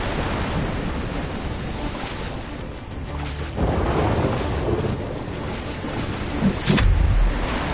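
Large waves crash and surge in Call of Duty: Black Ops 3, a continuous loud roaring wash with heavy booming swells building midway and again near the end.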